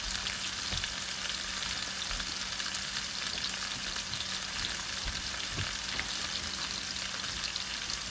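Garlic salmon cooking in foil in a pan, a steady, even sizzle and crackle of frying throughout with a few small pops, moderately close and with no talking.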